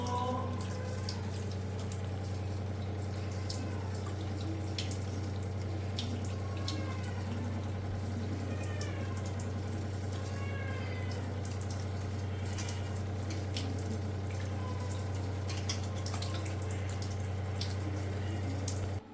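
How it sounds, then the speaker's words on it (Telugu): Water drains from washed chicken pieces resting in a colander in a home kitchen, a faint, continuous trickle with scattered drips. "మనం జల్లి బుట్టలోకి వేసుకుందాం. వాటర్ అంతా డ్రైన్ అయిపోతుంది."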